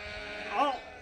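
A single sheep on a farm lets out a short, wavering bleat close by, rising briefly over steady background noise.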